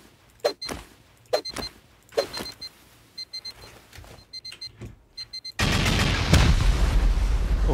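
Explosions from C4 charges and rockets blasting through base walls in the survival game Rust, several loud sharp bursts spaced apart, then a sustained roaring rumble of debris and blast noise at the end.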